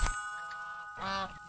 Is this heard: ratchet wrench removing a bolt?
no